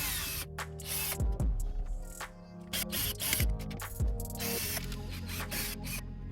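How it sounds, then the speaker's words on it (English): A power driver with a T20 bit whirs in several short bursts, backing screws out of a Volkswagen factory radio, with small metallic clicks between the runs. "Now the next step is to take out these 4 screws. These are T20 screws."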